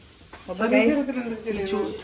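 Grated coconut roasting in a pan for a tuna fish curry, a soft sizzle and scraping stir under a voice speaking.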